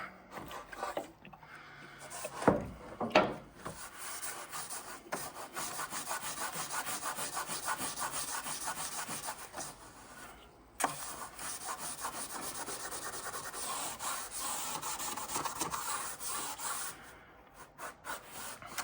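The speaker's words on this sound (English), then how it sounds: "I'm also going to try a Scotch-Brite pad and some mineral spirits, see if that's any better." A Scotch-Brite pad soaked in mineral spirits scrubs along the old splinterguard strip of a track saw guide rail. Close, continuous rapid rasping strokes follow a couple of short bursts, with one brief pause midway and no talking.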